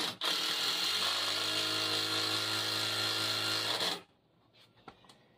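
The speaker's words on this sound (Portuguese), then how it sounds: "Eu ponho um parafuso aqui." A power drill drives a screw into wood for a rustic spice rack. It gives a loud, steady motor whine for about four seconds, then stops, leaving a few faint clicks.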